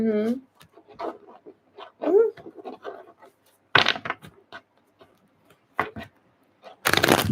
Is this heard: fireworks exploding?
no